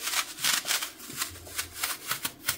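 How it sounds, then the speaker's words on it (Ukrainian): A handheld apple corer cuts through an apple, a short run of close, quiet crisp crunching and scraping strokes with no talking. "Спочатку ось таким гаджетом вирізаю серцевинку."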